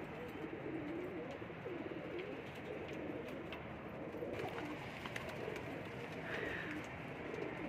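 Indian Teddy pigeons coo softly, their low murmuring calls blending into a dense, noisy background of birds.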